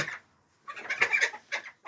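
Backyard Silkie chickens clucking nearby in short, soft bursts with brief pauses between calls.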